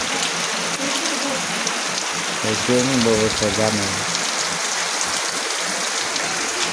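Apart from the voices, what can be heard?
light rain falling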